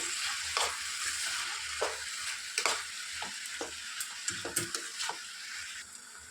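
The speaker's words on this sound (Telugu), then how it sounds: "సో ఇప్పుడు ఇవి గోల్డెన్ బ్రౌన్ కలర్లో వచ్చేంత వరకు బాగా ఫ్రై చేసుకోవాలి." Sliced onions fry in a pan toward golden brown, a steady close sizzle broken by repeated scraping stirs of a spoon against the pan, with no voices.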